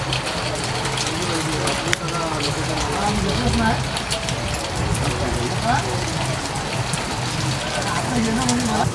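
Heavy rain hisses steadily on surfaces at Dapoli market during the Ganpati festival, a dense, constant patter with voices murmuring faintly beneath it.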